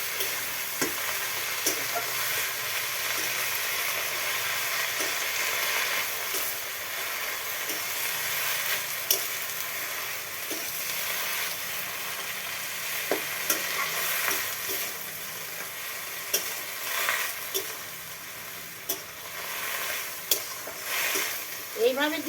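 Kakrol (spiny gourd) leaves stirred through hot oil in a pan for a magur fish curry, a steady close sizzling hiss throughout with scattered utensil scrapes and clicks.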